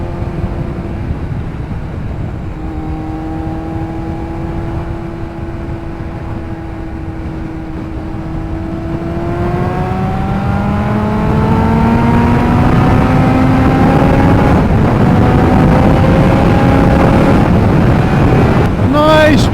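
A Kawasaki ZX9R motorcycle cruises gently, its engine a steady low hum that rises slightly in pitch partway through, under constant wind buffeting on the microphone.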